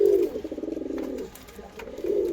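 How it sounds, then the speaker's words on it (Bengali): A newly paired pair of pigeons coos close by, pulsing throaty rolls that fade in the middle and swell again at the end. "দেখুন পায়রা দুটো কত মস্তি করছে"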